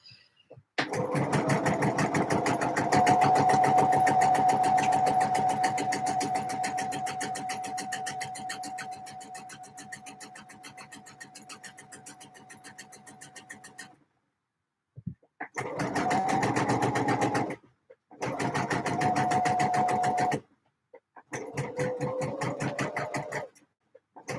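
A sewing machine stitches a D&G shirt, running in a long steady burst of about fourteen seconds, then three shorter runs with brief pauses between them, close and fairly loud.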